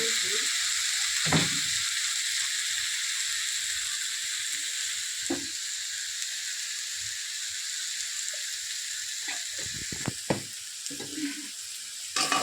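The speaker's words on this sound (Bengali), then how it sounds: "এবারে তেলের মধ্যে আলু, তারপরে হলুদ দেবে" Potatoes sizzle in hot oil in a home kitchen pan, a steady crackling hiss running throughout with occasional clinks and stirring knocks from a utensil near the end.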